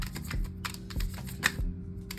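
Tarot cards being shuffled during a reading, quick papery riffles and soft taps in an uneven rhythm, close and fairly quiet over a low steady hum, with no talking.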